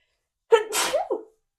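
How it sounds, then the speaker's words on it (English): A single close, loud sneeze with a sharp intake and burst, followed by a brief trailing exhale. "Oh, I'm going to sneeze."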